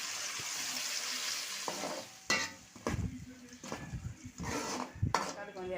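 Onions sauté in a pan for a tamarind curry made with bitter gourd, a constant bright sizzle broken by repeated stirring scrapes and sharp knocks of a spoon against the pan.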